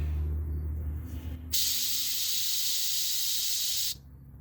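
Compressed air hisses steadily from an air line while fitting rear air suspension to a 1998 Dodge Dakota: a loud, constant broadband rush running about two and a half seconds, then cutting off abruptly, with low shop rumble before it.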